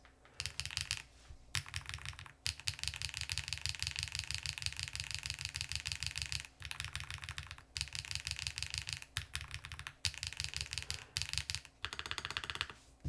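Rapid typing on a mechanical keyboard fitted with cheese switches, a dense clacking run of keystrokes close up with short pauses between bursts.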